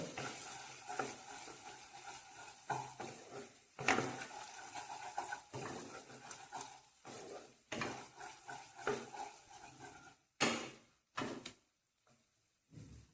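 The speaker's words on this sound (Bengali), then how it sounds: "আদা রসুনের কাঁচা গন্ধটা না যাওয়া পর্যন্ত খুব ভালো করে এটা একটু কষিয়ে নেব" Onion, ginger and garlic frying in a pan for a pabda fish curry with mustard and poppy seed paste, with a spatula scraping and stirring in irregular bursts over a steady sizzle, pausing briefly toward the end.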